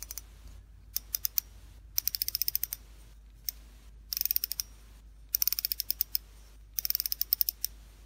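Drag micro clicks from a 2018 Shimano Exsence CI4+ C3000M spinning fishing reel, quiet crisp ticking in short rapid bursts separated by brief pauses, close up in a silent room.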